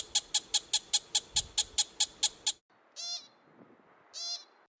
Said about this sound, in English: They are often noticed by their chirps, a toy-like squeak so cute and sharp that it almost sounds unreal in the wild.